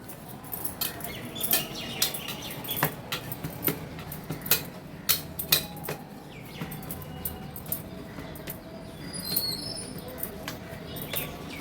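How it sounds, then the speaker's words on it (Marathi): Wheat and jaggery dough is kneaded by hand with oil, giving soft, sticky slaps and squelches in an irregular rhythm, close and faint, with a few light clicks. "आता अगदी थोडंसं तेल लावून घेतलं हाताला आणि हे पीठ मळून घेते"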